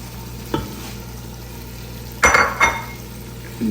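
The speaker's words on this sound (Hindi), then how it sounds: "गोश्त हमारा अच्छे से गया भून और अब हम इसमें डाल देंगे अरबी" Mutton and taro root frying in a pot, with a quiet low sizzle under a few sharp spoon-scrapes and clatters against the metal, the loudest pair coming close together near the end.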